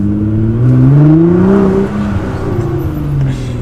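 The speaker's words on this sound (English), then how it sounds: "The way these cars sound with an exhaust system, they just have so much character and drama to the sound." Nissan GT-R Black Edition with an aftermarket exhaust, its engine droning and rising in pitch as it revs, then easing off and climbing again; loud, close and steady, heard on its own without talk.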